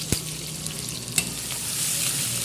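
Curry leaves and ginger garlic paste fry in hot oil with a steady close sizzle and crackle that swells toward the end, marked by a few sharp pops and spoon scrapes, with no voices.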